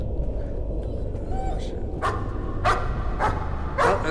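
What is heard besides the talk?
puppies barking in the video game Layers of Fear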